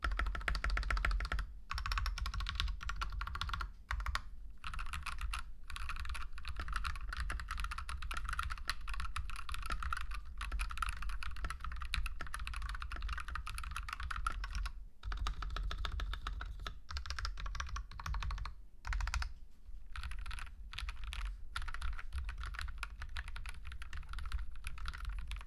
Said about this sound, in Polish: No i teraz posłuchajcie, jak to wszystko brzmi.